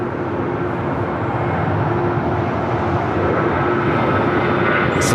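A Boeing 787-8 Dreamliner arriving from Mexico City at LAX gives a loud, continuous jet roar with a steady tonal hum beneath it, unbroken and fairly close for the whole stretch, with no talk.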